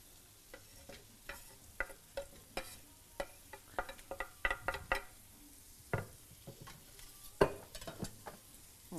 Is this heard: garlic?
yes